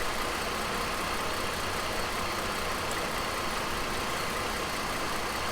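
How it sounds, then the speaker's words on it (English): A 2010 Mercedes C300 4matic engine idles in park with a steady, constant, even rumble and no change in pitch, close by and unbroken throughout. "Transmission is in park with the engine idling."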